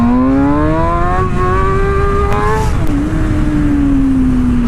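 A motorcycle engine revs hard under throttle for a power wheelie without the clutch, its loud, close tone rising steadily, dipping briefly, then holding high with no talking.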